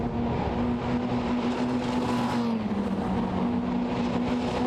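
Formula Renault Eurocup race cars at Paul Ricard turning onto the pit straight, loud sustained engine drone with a steady high whine that dips in pitch as cars pass, continuous throughout.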